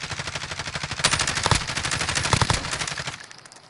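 Rapid automatic gunfire from Call of Duty Warzone, sustained bursts of loud, close shots crackling continuously for a few seconds before tapering off at the end, with no talk over it.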